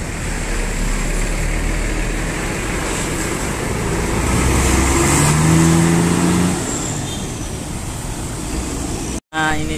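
A Murni Jaya 137 bus pulls into the Pondok Pinang terminal, its engine rumbling and building up close by amid general terminal noise, with voices around it.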